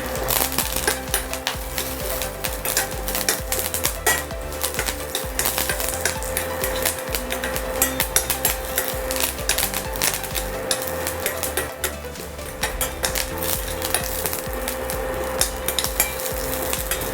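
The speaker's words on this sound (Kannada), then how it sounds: "ಸ್ವಲ್ಪ ಸಾಸಿವೆ ಅದು ಚಿಟ್ಪಿಟ ಅಂತಿದ್ದಂಗೆ ಒಂದು ಸ್ವಲ್ಪ ಜೀರಿಗೆ" Mustard seeds splutter and pop rapidly in hot oil for tempering, a dense crackling sizzle close up with occasional clinks of a pan.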